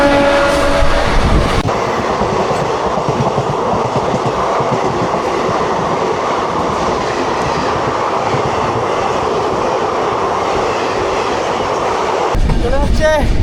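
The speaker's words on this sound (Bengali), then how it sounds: "আর ট্রেন কিন্তু ভালোই গতিতে চলছে, 100 পার করে দিয়েছে" A Garib Rath express train, number 22542, running at over 100 km/h: a loud, continuous roar of wheels and rushing wind heard from inside, steady throughout, with a brief shift near the end.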